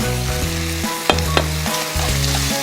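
Fish cake stir-fried with seasoning sauce and green pepper in a hot pan, a loud close sizzle with a couple of sharp scraping stirs of the spatula, no voices.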